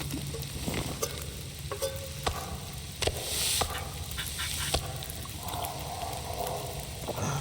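Meat sizzling over a fire in the survival game The Long Dark, a close, steady frying crackle with sharp pops and a brief louder burst of hiss, no talking.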